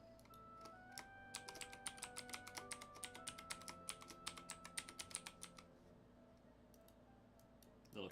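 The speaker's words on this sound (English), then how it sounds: "Little keyboard ASMR." Rapid clicky typing on a computer keyboard runs for about five seconds, close and crisp, then stops, leaving a quiet room with a few scattered key taps and no speech.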